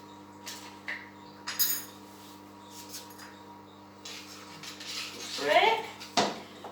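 A teaspoon taps and scrapes against a soup pot while breaking up a stock cube, a few clinks spread out and then a busier cluster of metallic scraping near the end, with a voice talking quietly in the background.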